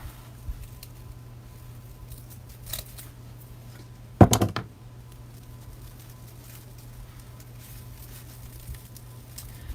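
A zip tie is snipped shorter on a fall scarecrow wreath: a single brief, crisp cutting snap near the middle, fairly close, followed by a few faint rustles against a quiet room hum with no talking.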